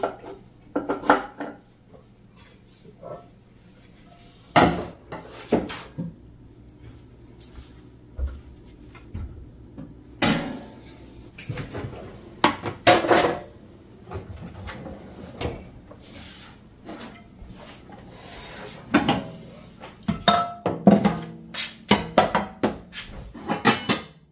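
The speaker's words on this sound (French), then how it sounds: "J'ai fait quelques petites vaisselles pendant que j'étais en train de cuisiner, donc je vais ranger toute cette vaisselle-là." Dishes and cutlery are put away in a home kitchen during an evening cleaning routine: scattered clinks of crockery, rattling silverware and drawer or cupboard knocks, close and irregular with quiet gaps.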